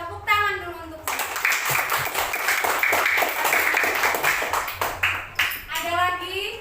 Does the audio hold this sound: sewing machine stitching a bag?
no